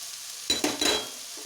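Spice powders including chili, jeera, Shakti mutton masala and coriander powder are stirred into a frying mutton masala, giving a few quick scraping stirs over a close, steady sizzle of hot oil.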